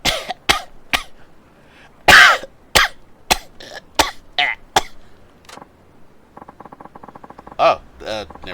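Harsh, repeated coughing from a character in Yakuza 5 Remastered, a series of sharp bursts and throat clearing spaced over several seconds, followed by game sound effects and a short voice.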